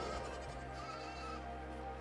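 Sheep bleat in the video game AER Memories of Old, a steady wavering call held over a low droning ambient music bed, with no talking.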